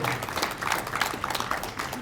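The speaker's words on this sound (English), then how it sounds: "keep the claps going just because we're here finally" Audience applause at an outdoor launch event for a behavioral health center, a steady wash of clapping from a crowd, moderately loud and continuous throughout with no speech over it.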